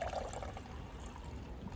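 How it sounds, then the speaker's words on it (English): Liquid from a can trickles steadily into a cup, a soft continuous pouring stream close by with no talking. "I'm just going to pour the entire can into my cup."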